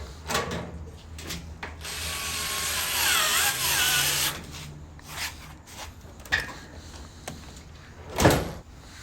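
Screws being driven into the panel of a Maytag Bravo XL electric dryer, with a drill whirring in a sustained burst early on, then scattered clicks, knocks and a louder clunk near the end.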